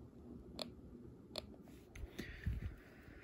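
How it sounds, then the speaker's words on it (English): Sharp, sparse clicks pop from a Snap Circuits Extreme tone generator speaker fitted with a larger capacitor, a handful of faint, evenly spaced ticks over a quiet background hum. "now you just hear clicking sounds from the speaker"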